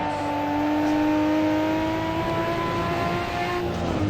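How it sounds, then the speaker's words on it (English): A Nissan R32 GT-R race car engine drones loudly with a rising whine on the Nürburgring Nordschleife, and a faint hiss near the end could be a turbo blow-off valve releasing. "You can hear the blow-off valves there doing their work."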